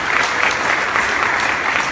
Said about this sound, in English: big round of applause for Christine, kicking things off.